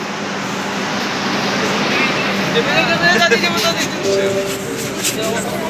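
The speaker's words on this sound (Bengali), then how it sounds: "তো আমাদের মেট্রো চলে এসছে আমাদেরকে হাওড়া জংশন পৌঁছে দেওয়ার জন্য।" Low rumble and hum of a metro train pulling into a station under the Ganges river, bound for Howrah Junction, with station chatter around it and a few tonal squeals and beeps.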